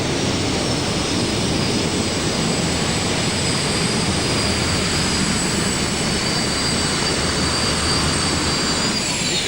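A modified pulling tractor with three turbine engines roars at a 2008 NTPA championship pull in Bowling Green, Ohio, giving a loud, unbroken jet-like howl with a high whine over it.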